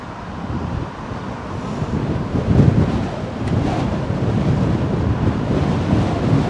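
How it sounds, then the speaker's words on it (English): Strong gusty wind at London Heathrow Airport roars steadily and buffets the microphone, a loud low rumble that swells and eases without a break, with no talking. "Wow, wind's really picked up."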